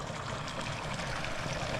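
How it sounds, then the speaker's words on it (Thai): Cold water flows in a stream beside a walking path near a waterfall in Laos, making a steady, close rushing wash with no voices. "มีน้ำไหลอยู่แคมเหือนแบบนี้เลย"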